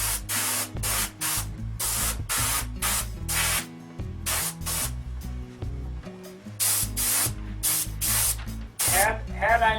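Aerosol spray paint hisses in repeated short bursts of a second or so onto the nose and motor mount area of a P-51 model airplane, close and loud, with brief pauses between passes and a voice talking.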